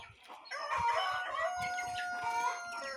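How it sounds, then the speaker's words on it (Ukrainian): A busy flock of chickens clucking and calling together, with high-pitched chick peeps mixed in, steady and close. "Дуже великі курчата."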